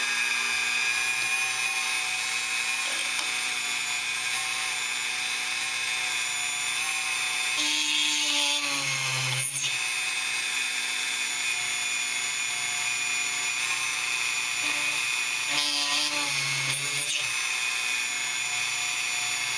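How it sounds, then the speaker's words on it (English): A drill press spinning at about 6000 RPM bores holes into a plastic part of an AMT Vulcan warp shuttle model kit, a steady high whine running throughout with brief dips and surges as the bit bites in. "The nice part about using this press is it allows me to really have good control over this and get my holes in the exact right spot every time I go."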